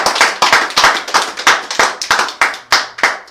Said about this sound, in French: Est-ce que nous prenons des acclamations à notre Dieu?